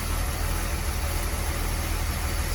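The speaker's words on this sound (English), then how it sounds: "Is there anything better sounding than a smooth running engine after you just rebuilt it?" A freshly rebuilt Mopar flathead car engine runs smoothly at a steady idle, a low, even rumble heard close up with no voices.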